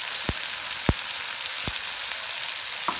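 Guyanese Spanish rice with wiri pepper, sweet pepper and bora fries loudly in a pot with a steady, close sizzle, broken by a few brief scrapes as it is stirred.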